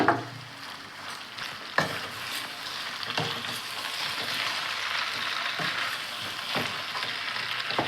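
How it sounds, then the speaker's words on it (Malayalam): Beef macaroni being stirred in a hot pan, giving a steady sizzle with periodic scraping strokes of a spoon every second or so, close and fairly loud with no talking. "ഇതിലോട്ട് ചപ്പിട്ട് കൊടുക്കാം നമുക്ക് നന്നായി ഇളക്കി കൊടുക്കാം"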